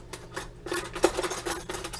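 A spoon stirs an egg mixture with a tablespoon of water in a dish, making steady scraping and clinking strokes that repeat close up for the whole stretch, with no talking.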